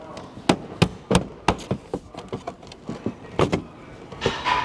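A tail light on a 2016 Audi S6 is worked loose with a series of sharp plastic clicks and knocks, irregularly spaced, close, ending with a louder rattling pop as the assembly comes free.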